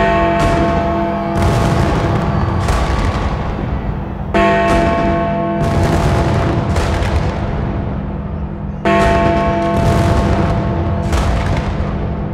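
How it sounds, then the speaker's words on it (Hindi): New Year fireworks go off over British cities, loud booms and crackling bursts that come in three clusters, each followed by a ringing, echoing tail. "बरतानिया के मुख्तलिफ शहरों में जहां साले नौ की आमद पर आतिशबाजी का शानदार मुजाहरा किया गया"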